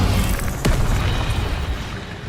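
Spell blasts go off in the video game Hogwarts Legacy, with Incendio and Expelliarmus casts producing a loud booming burst and a sharp pop amid continuous rumbling game sound.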